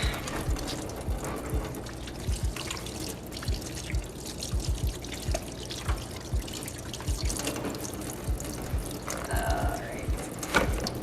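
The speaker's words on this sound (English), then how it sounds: "I'm gonna wash our hands" Hands being washed under running water, a steady wet splashing and pouring with small clinks and drips, moderately close and continuous, with no talking.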